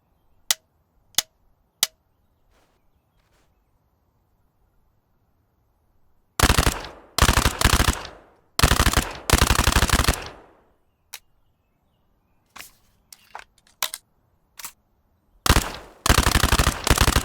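Gunfire at targets in the Thunder Tier One shooting tutorial: three sharp single shots, a pause, then loud close bursts of rapid automatic fire mixed with scattered single cracks, no talk.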